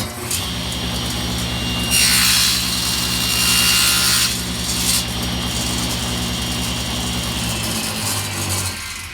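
A table saw with a crosscut sled slices through a small piece of wood in a cabinetry shop, the motor humming steadily while a loud bright cutting burst lasts about two seconds before the blade spins down.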